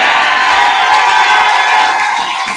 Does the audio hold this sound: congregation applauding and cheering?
yes